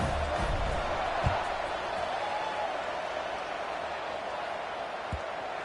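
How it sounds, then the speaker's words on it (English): Stadium crowd at an Indy vs Nebraska NCAA college football video game, a steady, loud buzzing roar of spectators with a few faint thumps scattered through it. "this crowd is buzzing after that last score"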